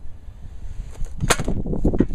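A hammer bangs down the raised spring fingers of a failed clutch pressure plate from a Toyota, giving a sharp metallic strike followed by several lighter taps.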